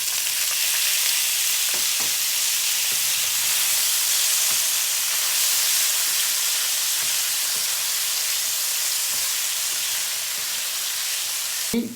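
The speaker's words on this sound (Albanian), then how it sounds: "Te yndyra që kemi, do shtojmë patatet" Potatoes and tomatoes fry together in rendered duck fat in a pan, giving a continuous loud sizzle and hiss with occasional soft stirring knocks, and no voices.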